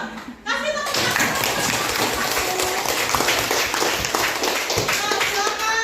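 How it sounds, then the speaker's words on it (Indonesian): Classroom of students clapping together for a winning group after a history lesson, dense rapid claps filling the room with a few children's voices mixed in. "Kasih tepuk tangan."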